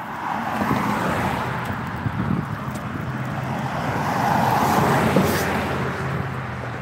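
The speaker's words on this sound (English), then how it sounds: "Waiting for cars to pass." Cars pass along a road outdoors on a windy day, a swelling traffic whoosh rising toward the end over constant wind rumble against the microphone.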